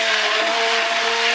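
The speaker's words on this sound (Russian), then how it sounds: "Использовать погружной блендер для взбивания этого всего." An immersion blender whirs steadily while blending pumpkin and oranges into juice, a loud, continuous motor drone with a bright, buzzy tone that holds level throughout the brief burst.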